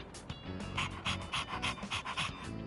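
A dog in Persona 3 Reload pants in quick, rhythmic breaths, soft and close, with no voices.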